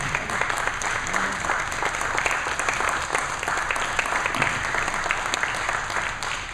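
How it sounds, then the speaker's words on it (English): A crowd applauds military service members with dense, sustained clapping that stays even and fairly loud throughout, filling the room without pause. "please stand so we can applaud you"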